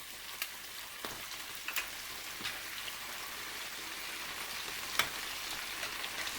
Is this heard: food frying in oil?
yes